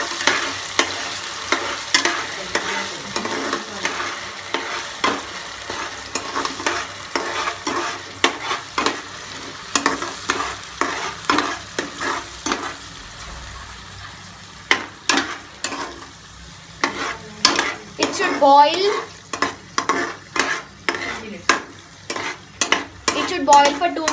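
Onion paste fries in a pan with a steady sizzle while a spoon repeatedly scrapes and knocks against the metal, making rhythmic clattering strokes that speed up toward the end.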